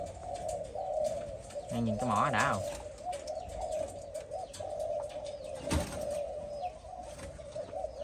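A caged Malaysian spotted dove gives one short, close cooing phrase in an outdoor coop, while someone talks nearby over a steady background hum.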